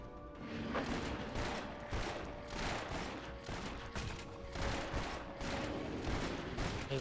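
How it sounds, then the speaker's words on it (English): Rapid, dense bursts of explosions and blasts from Torchlight 2 combat, a continuous loud barrage of crashes and booms layered over steady game background tones, with no talking. "Those explosions"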